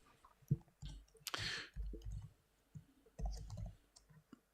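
A computer mouse gives a handful of soft, close clicks at an uneven pace, with faint desk rustling between them in an otherwise quiet room.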